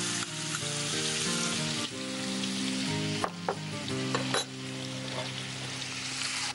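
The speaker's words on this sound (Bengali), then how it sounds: "এবার তেলের মধ্যে আমরা প্রথমেই পেঁয়াজটা দেব।" Finely chopped onions sizzle steadily in hot oil in a pan, a continuous loud frying hiss throughout with what seems to be tonal music underneath.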